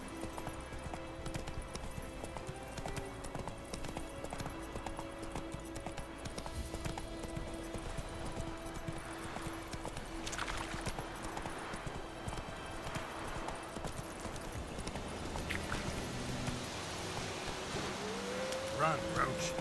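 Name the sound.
horse Roach galloping in The Witcher 3 video game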